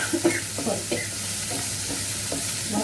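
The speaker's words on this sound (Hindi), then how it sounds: "अब मैंने डाल दिया इसमें प्याज," Onions and green chillies fry in a pan with a steady, close sizzle, broken by several soft scraping stirs of a spatula; no one talks.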